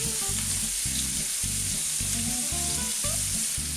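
Onion hits a hot pan already frying bacon pieces, setting off a loud, continuous sizzle with some crackle close by and no talking.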